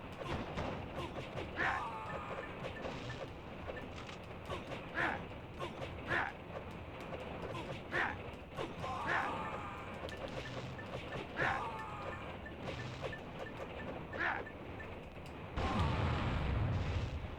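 Enemy bomb blasts and crashing impacts from the PS1 brawler Gekido: Urban Fighters, a run of sharp explosive hits spaced every second or so over busy game noise, with a heavier low rumble near the end.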